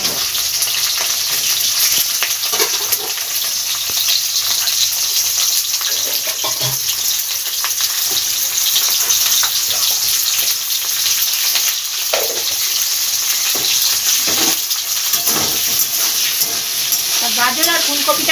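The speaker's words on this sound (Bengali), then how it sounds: "গাজর আর ফুলকপি একসঙ্গেই নুন দিয়ে ভেজে নেব" Carrots and cauliflower fry in hot oil with salt, giving a steady, bright sizzle throughout. Occasional stirring clatters and scrapes are heard. No one speaks.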